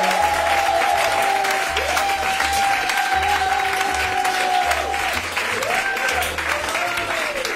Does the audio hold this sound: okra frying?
no